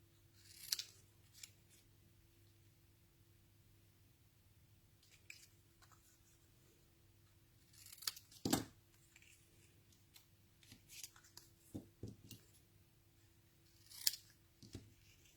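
Scissors snip through patterned paper in a handful of short, separate cuts spaced across otherwise quiet, faintly humming room tone, close and crisp.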